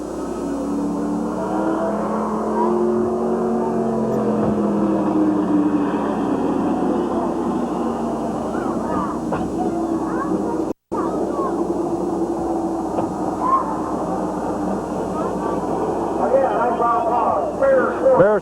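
A smoking race car engine drones and revs at Midvale Speedway in 1987, the steady roar of cars circling the track under loud public-address commentary throughout.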